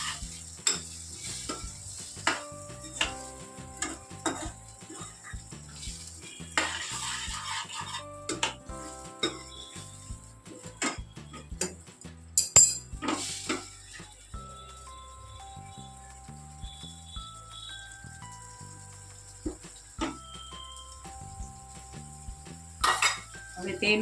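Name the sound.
stirring coriander-cumin powder into a frying pan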